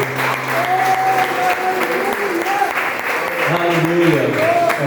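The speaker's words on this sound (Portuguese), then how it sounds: "Queria que você aplaudisse o Espírito Santo bem forte." A church congregation at a garage worship service claps loudly and steadily in sustained applause, with a voice speaking and some singing over the clapping.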